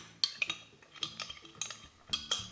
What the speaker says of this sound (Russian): размешаем